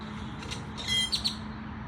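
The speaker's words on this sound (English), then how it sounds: "I wonder what these birds are saying." Birds chirp and call outdoors in a few short, faint bursts over a steady low background hum, with no talking.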